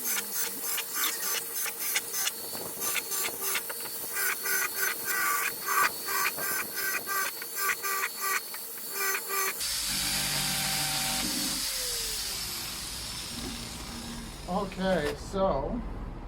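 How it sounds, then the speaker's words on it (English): A power drill drilling holes in plastic whirs in repeated short bursts, then runs in a longer steady grind, with rustling and handling noises between passes. "I am drilling holes."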